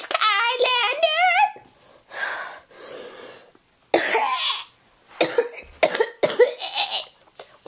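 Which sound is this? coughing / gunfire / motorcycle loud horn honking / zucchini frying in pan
coughing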